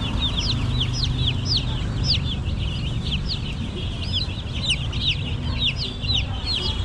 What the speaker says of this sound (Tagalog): ano to, 45 days ba yung manok